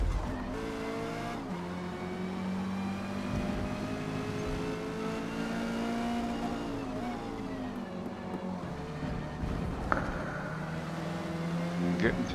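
Porsche 550 Spyder racing at Spa in Forza Motorsport, its engine droning and rising and falling through gear changes, with tyre noise and another car nearby, while someone talks over it.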